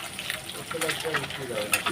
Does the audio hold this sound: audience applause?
no